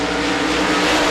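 Modified race cars roar together at the green flag start at a dirt oval speedway, a dense, loud, sustained engine din filling the brief moment without voices.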